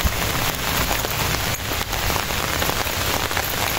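Heavy rainy-season rain pours steadily, a dense continuous hiss of drops drumming on hard surfaces, loud and close throughout with no voices.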